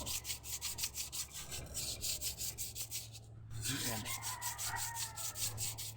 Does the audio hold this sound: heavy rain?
no